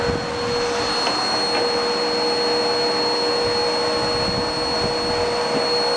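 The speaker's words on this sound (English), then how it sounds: "Let's see if the power bar runs. Yeah, it's spinning." A clogged Bissell PowerForce vacuum cleaner with almost no suction runs with its brush bar spinning, giving a loud, steady motor whine and rushing hiss that holds unbroken from start to finish.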